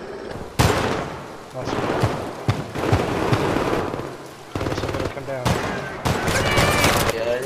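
A turret firing on gunmen in the video game Syndicate: loud, rapid bursts of automatic fire, cut by short pauses. A player speaks briefly over the shooting.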